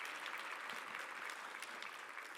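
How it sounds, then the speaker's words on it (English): At the Fredericton State of the City Address, an audience gives a steady, continuous round of applause, dense, even clapping heard from a moderate distance without pause. "let's give a big round of applause for those groups right there"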